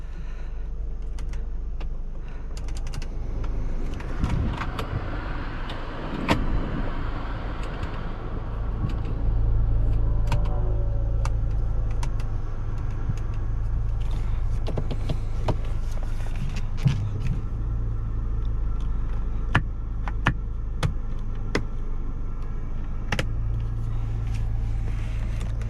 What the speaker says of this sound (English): test drive on this Mercedes-Benz